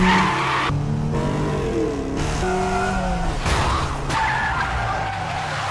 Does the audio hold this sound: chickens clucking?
no